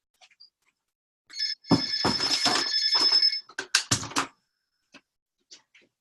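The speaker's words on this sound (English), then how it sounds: "This is like the fourth time my phone's rang" An office telephone rings in a bright, rattling electronic burst lasting about two seconds, followed by shorter clattering rings, then faint clicks in a quiet room.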